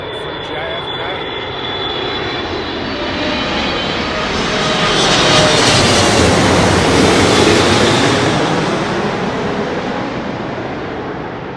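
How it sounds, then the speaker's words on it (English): British Airways Boeing 777-300 jet airliner in from JFK at London Heathrow, a loud sustained broadband engine roar that swells to a peak mid-clip and then slowly recedes, heard alone without talk. "we have the British Airways Boeing 777-300 from JFK"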